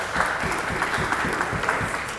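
Audience at an Oxford Union debate on drones bursts into steady, dense applause, many hands clapping together evenly throughout with a faint murmur of the crowd beneath.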